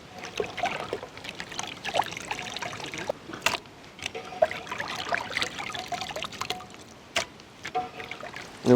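Beef liver being washed by hand in a bowl of water with vinegar, close splashing and trickling with soft squelches and intermittent sharper clatters, no voices.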